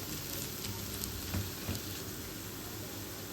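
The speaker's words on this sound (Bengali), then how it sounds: "পেঁয়াজটা আমার লাল লাল করে ভাজা হয়ে গেছে" Onions fry in a pan until browned, a faint steady sizzle and crackle with a couple of small pops, continuous and without talking.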